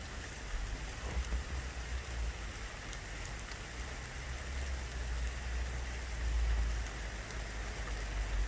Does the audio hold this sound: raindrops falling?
yes